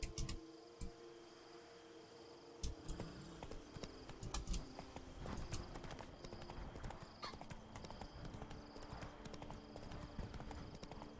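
Roach, the horse in The Witcher 3 video game, clip-clopping at a steady rhythm with hooves under quiet ambience and occasional sharp clicks, the gait picking up midway.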